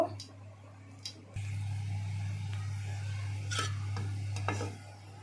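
Eggs frying in a pan with oil for a Bengali egg bhuna with brinjal, giving a steady sizzle under a low hum, with a few soft scrapes and taps from stirring.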